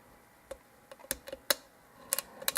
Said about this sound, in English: getting good solid clicks.